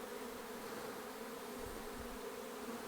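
Honey bees from a swarm that left a populous hive buzz in a dense, continuous drone, steady and moderately close with no talk.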